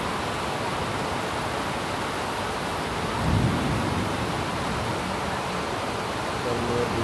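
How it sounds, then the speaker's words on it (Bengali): Heavy monsoon-style rain pours down in the Shahinbagh area of Dhaka as a dense, steady roar, with a low rumble of thunder rolling through midway and fading back into the downpour. "মেঘের ডাক শুনতে পাচ্ছি।"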